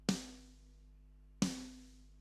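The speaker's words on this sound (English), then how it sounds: "Boring old snare." Two dry, untreated snare drum hits about 1.3 seconds apart, each a sharp crack with a short natural decay and no reverb tail, alone and fairly quiet.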